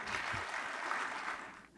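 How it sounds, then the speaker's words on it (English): Steady applause from a conference audience, a dense wash of clapping that holds for a couple of seconds, fairly distant and soft, then tapers off. "Let's give her a round of applause"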